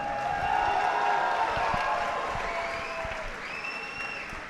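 Applause and cheering from a crowd at a kickboxing event in Sri Lanka, dense clapping that swells and then slowly fades, with a few shouts and whistles rising over it.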